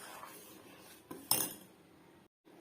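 A spoon stirs jaggery porridge in a pot on low heat, making faint scraping and a few light metallic clinks against the pot's sides, with short pauses between strokes.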